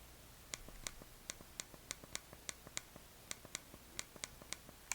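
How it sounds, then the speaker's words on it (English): Triggers on standard Nintendo Switch Joy-Con controllers are pressed repeatedly, giving small, sharp plastic clicks in a fairly regular series, very close but quiet over a faint background hiss. "This is the sound of the triggers on regular Joy-Cons."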